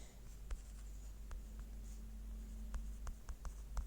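Pen writing on paper or a board during a vocabulary lesson: soft scratchy strokes and scattered ticks over a steady low hum, close and faint, with no talking.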